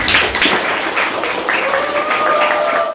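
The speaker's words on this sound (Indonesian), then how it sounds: "Oke, tepuk tangan untuk." A school audience of students gives a dense, loud burst of applause and clapping, with a faint whistle-like tone near the end and no clear speech.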